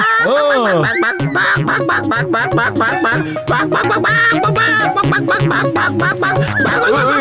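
A loud, rapid run of nasal, squawking calls, busy and continuous, a cartoon character mimicking a chicken's clucking and crowing in Motu Patlu.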